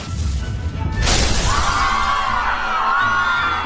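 A birthday confetti popper goes off with a single sharp, loud bang and a burst of scattering crackle, followed by a lingering ringing hiss.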